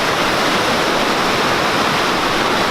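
Water rushing steadily at Riverside State Park near Spokane, a loud, dense broadband roar of a fast river holding constant with no gaps or voices.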